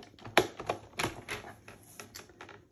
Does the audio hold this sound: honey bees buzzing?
no